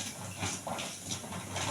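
Mustard seeds spluttering in hot oil while tempering a banana stem poriyal, a steady close sizzling hiss with scattered crackles and no voices.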